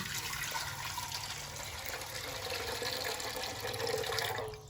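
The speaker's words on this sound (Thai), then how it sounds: "เอาน้ำลงไปเลย" Water poured steadily into a cooking pot for boiling field snails, a continuous close rushing splash lasting several seconds with no talking.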